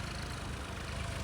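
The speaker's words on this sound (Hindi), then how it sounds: "यहाँ पर ये दोनों ट्रैक्टर आ रहे हैं।" Two tractors approach a loading site near an excavator, their engines idling and running as a steady low rumble at moderate distance with no talk.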